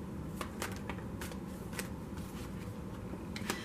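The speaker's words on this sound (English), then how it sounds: "so I'm only going to shuffle it for a moment." Soft, close riffling of a tarot deck being shuffled, with scattered crisp card snaps over a faint steady background hum and no voices.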